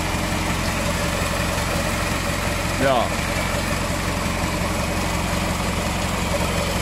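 A car engine idles steadily after an oil change, a constant low rumble throughout with a brief spoken word partway through.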